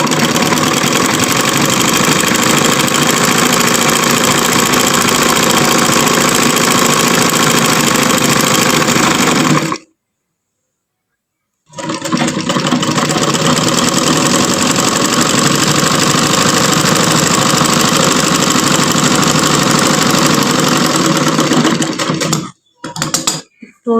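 Sewing machine stitching a trouser hem, running as a loud continuous mechanical whir for about ten seconds, stopping briefly, then resuming at a steady pace before a few final halting bursts.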